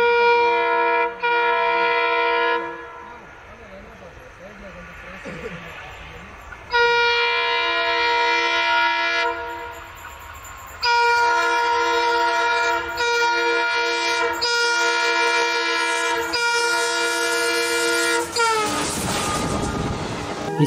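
A train climbing a gradient sounds several long, loud horn blasts separated by short gaps, over a rumbling rail noise that swells into a harsh roar near the end.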